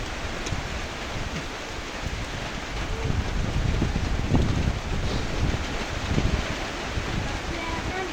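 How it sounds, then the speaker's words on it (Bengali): Heavy monsoon rain falls with gusting wind during flooding in northern Bengal, making a loud, unbroken roar with wind buffeting the microphone. "শুধু বৃষ্টি আর বৃষ্টি, প্রচুর বৃষ্টি পড়তেছে।"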